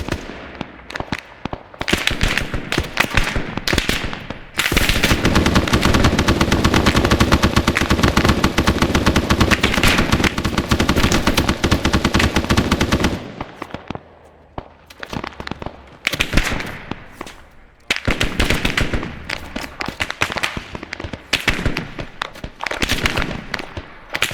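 Rapid bursts of automatic gunfire in a Vietnam War video game, a dense sustained volley followed by intermittent loud cracks and shorter bursts, close and continuous with no talking.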